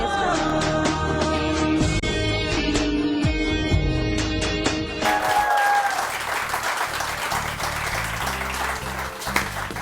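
Studio audience applause on a Pakistani morning television show, loud and dense clapping that shifts midway into a broader wash of crowd applause with musical tones underneath.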